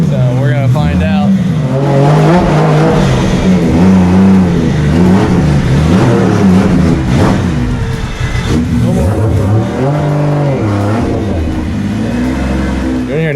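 A 1000hp 2JZ-powered BMW drift car revs hard on a dyno, loud rising and falling engine wails close up, mixed with people talking over the noise.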